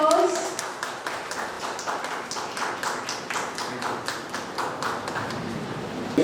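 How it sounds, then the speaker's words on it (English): An audience applauds at a teacher training event, a steady run of dense, moderately loud clapping that continues for several seconds. "we can have a big round of applause"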